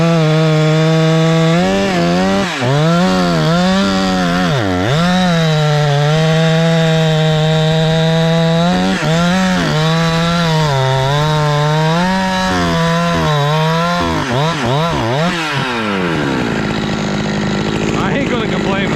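Husqvarna 372XP big bore chainsaw cutting wood, a loud close engine whine that bogs down and revs back up repeatedly under load before the throttle drops at the end.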